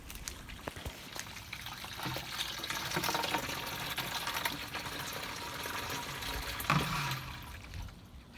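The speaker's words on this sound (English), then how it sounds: "It doesn't take long to fill up the 2-gallon pitcher, probably about 30 seconds or so." Water running from the faucet of a full 55-gallon rain barrel into a 2-gallon pitcher makes a steady, faint splashing trickle, with one brief clunk near the end.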